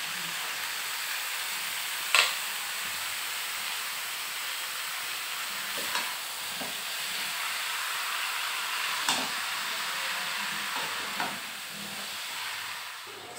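Bottle gourd goes into a pan with fish head and sizzles in a steady hiss, broken by a few sharp pops and clinks of a utensil.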